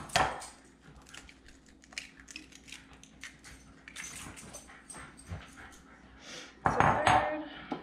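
A utensil stirs food in a bowl, with irregular clinks and scrapes against the dish. The light knocking comes in uneven bursts and ends in a louder clatter.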